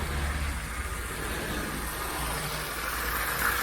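An HO scale Athearn GP35 model locomotive's motor runs with a steady low hum under a faint background hiss, continuous and unchanging.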